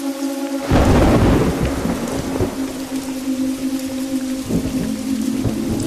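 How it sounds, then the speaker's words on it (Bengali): Heavy rain with thunder from a horror cartoon's stormy night, bursting in after a brief silence as a loud, dense roar of downpour and rumbling that stays steady throughout, with a faint sustained tone underneath. "শুধু ঝরঝর করে বৃষ্টির শব্দ"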